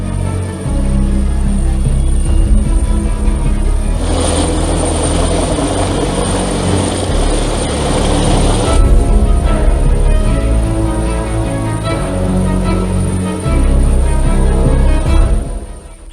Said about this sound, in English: The noise when the helicopter was next to us was impressive.